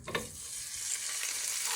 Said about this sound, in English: you will start frying your pork